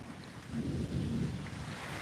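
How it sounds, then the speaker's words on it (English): Steady rainfall fills the scene as a dense, hissing wash with a low rumble underneath, continuous and moderately loud with no talking. "There the rain starts."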